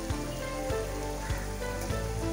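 Mutton bone soup bubbles in a pan, a steady dense sizzling hiss with faint periodic pops, heard close and continuous with no talking.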